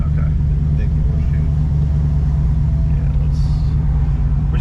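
A Chevelle SS 454 big-block fitted with Holley Sniper EFI drives along a quiet side street, its engine giving a steady, loud low rumble throughout, with no clear revving.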